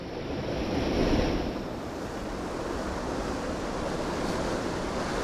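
Steady surf washing over shallow reefs as a night tide floods in, a continuous broadband rush with a brief swell near the start, wind buffeting the microphone throughout, no voices.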